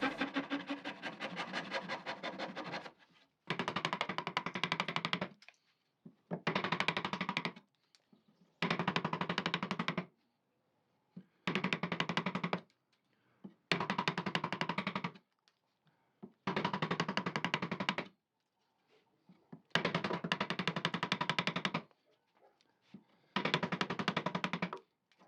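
A hand chisel pares waste wood from a groove in a desk board. About nine rough scraping strokes come in even bursts, each a second or two long and separated by short silent pauses.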